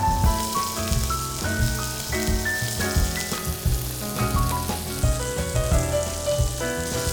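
Salt-and-pepper-seasoned beef burger patties sear in a hot pan with olive oil, giving a loud, continuous sizzle that runs unbroken beneath melodic background music.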